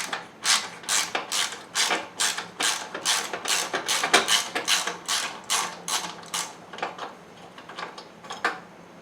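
A ratchet wrench loosens a 12 mm nut on a 1971 Honda CB175 motorcycle, making quick bursts of sharp metallic clicks in a steady rhythm, close and clear, with brief pauses between strokes.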